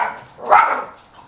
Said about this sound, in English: and excuse the dog